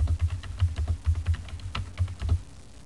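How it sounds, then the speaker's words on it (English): Steady typing on a computer keyboard while composing a document in Microsoft Word, with quick, close, dry key clicks in an uneven rhythm and one sharper keystroke, and no talking. "We start typing the first line."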